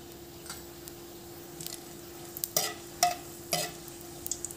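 Dried red chillies, a bay leaf and cumin seeds in hot oil being stirred, a faint low sizzle under a steady hum with a few distinct clicks and scrapes of the spatula spaced a second or so apart.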